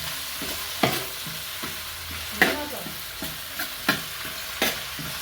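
Onion, garlic, ginger and curry leaves frying in a pan, a steady close sizzle broken by several sharp stirring scrapes at irregular intervals.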